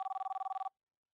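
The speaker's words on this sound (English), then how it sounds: "谁的手机在响？" A mobile phone in an office rings with a rapid electronic trill of a dozen or so evenly spaced pulses, then stops abruptly into silence.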